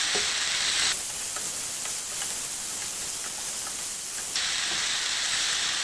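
Corn tossed into a hot pan on high flame for Chinese chicken vegetable rice, giving a loud, continuous sizzle and hiss with occasional stirring scrapes, steady throughout with no talking.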